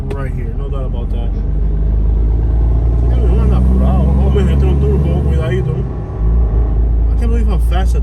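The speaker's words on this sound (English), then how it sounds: "I can't believe how fast that dump truck is driving." A dump truck speeding along a road in Immokalee, Florida, a loud sustained engine and tire roar that stays close and heavy throughout, with someone talking over it.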